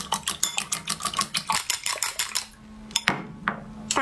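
A whisk beats six eggs with salt in a bowl, making a quick, steady clatter of metal against the bowl that pauses briefly and then resumes, close and clear.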